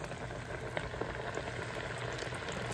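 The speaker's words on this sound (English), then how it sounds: "We're about to turn it loose into the grease. Let's see how this goes. Oh yeah, it's bubbling." Catfish pieces frying in bubbling hot grease give a steady, close, dense sizzle with rapid popping and crackling throughout, with no voices.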